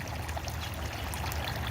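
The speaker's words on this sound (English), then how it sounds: "the water from the top tier down, it flows over a spout-like area" Water runs steadily from the top tier of an older, gray and brown weathered tiered garden fountain, spilling over a spout-like lip in a continuous close trickle and splash with no pauses.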